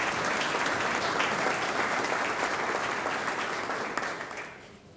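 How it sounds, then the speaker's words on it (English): An awards ceremony audience breaks into full, dense applause that holds steady and then tapers off near the end, with no talking over it. "Let's give them a round of applause."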